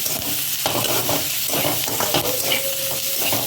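Onion frying and being stirred in a pan, a steady close sizzle and hiss with scraping strokes throughout, no voices.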